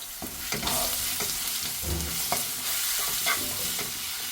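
Ginger garlic paste frying with onions in very hot oil for a chicken roast gravy, a close continuous sizzle broken by scraping stirs of a spoon against the pan, with no talking.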